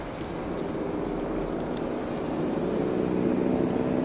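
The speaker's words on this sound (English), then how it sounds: "they're waiting for the other helicopter to put that down" A helicopter flying over the park in Jurassic World Evolution 3, a steady whirring engine drone holding level and fairly loud, with faint clicks over it.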